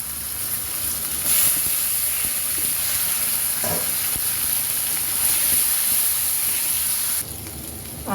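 Onions frying in hot oil in a pan after a tempering of coriander, black cumin and mustard seeds, giving a steady, close sizzling hiss that holds evenly throughout and eases slightly near the end.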